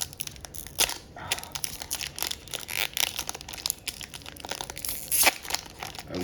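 A foil wrapper on a Panini Donruss Elite Premier League trading card pack crinkles and tears as it is worked open by hand, close and continuous with sharper rips scattered throughout.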